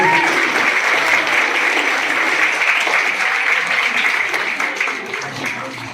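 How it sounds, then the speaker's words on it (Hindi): Audience at a motivational school seminar in an inter college claps loudly and steadily, a dense roomful of hands that holds strong before gradually thinning toward the end. "जोरदार तालियां होनी चाहिए"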